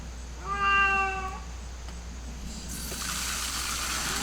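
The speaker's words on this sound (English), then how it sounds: "Got the cat bothering me." A tabby cat gives one clear, drawn-out meow close by outdoors. Moments later water starts gushing from a garden hose into peat moss and continues steadily underneath.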